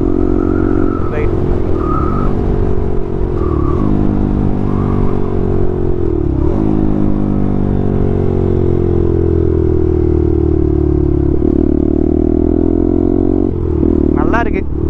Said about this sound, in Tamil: ஓகே, கேட்போமா டவுன் ஷிஃப்ட் சவுண்ட் எப்படி இருக்குன்ட்டு.